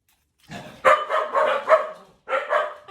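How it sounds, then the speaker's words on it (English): Dogs bark in a quick, loud series of several close yaps, a brief pause, then two more barks. "I have dogs that ruin everything because they like to bark at the air."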